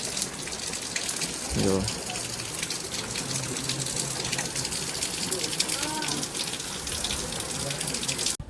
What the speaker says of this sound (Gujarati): તો ગાઈસ વરસાદ ચાલુ થઈ ગયો છે